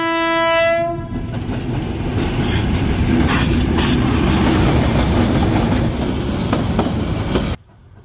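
A train rolls over an ungated rail crossing on the Barhatta line, sounding a loud sustained horn at first, then a steady close rumble of wagons with clattering wheels and faint squeals before the sound cuts off abruptly.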